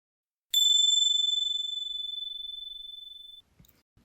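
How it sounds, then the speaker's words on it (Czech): A single small bell rings once during meditation, a clear bright ding that rings out and slowly fades over about three seconds, followed by faint rustling. "Když zazvonil zvoneček"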